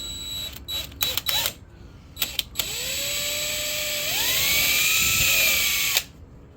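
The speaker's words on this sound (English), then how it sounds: "Just like if we were drilling the block, we have our pilot holes." A power drill bores pilot holes into a knife handle block, starting with a few short bursts before one long steady whine that rises in pitch and then stops abruptly, close and loud.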